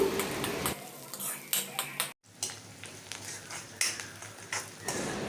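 Sliced onions frying in oil in a kadai, with close metallic clinks and scrapes of a spoon stirring against the pan over a soft, steady sizzle.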